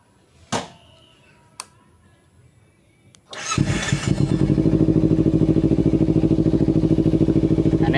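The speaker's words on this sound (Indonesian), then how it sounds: "kemudian kita nyalakan mesinnya" A Kawasaki Ninja 250 FI motorcycle engine is started after two sharp clicks, catching at once and settling into a steady, loud, close idle.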